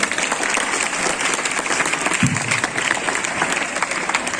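Audience applause fills a school reopening event after a student performance, a steady dense clapping that holds loud and even throughout.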